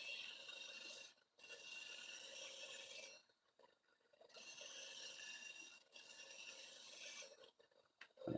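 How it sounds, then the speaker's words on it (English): A woodturning gouge is sharpened in long, steady rasping strokes, three sustained passes separated by short pauses, close and fairly quiet, with no talk. "I'm just going to have to sharpen my gouge"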